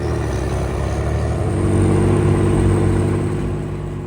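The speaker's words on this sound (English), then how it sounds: "I couldn't resist taking a ride in a Panzerbandvagn, or as you could translate it to, armored personnel carrier" A Swedish Pansarbandvagn armored personnel carrier engine rumbles loudly during a ride, a steady low droning growl that swells slightly in the middle, heard from on board with no talk.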